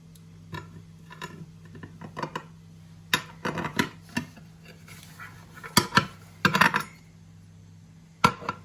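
A metal skimmer clinks and scrapes against a cooking dish holding sponge cake, in irregular taps and scratches over a low steady hum, fairly close, with no talking.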